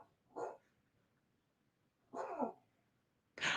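A dog named Django barks from another room, three separate short barks spaced about a second or more apart, fairly faint and distant against a quiet background.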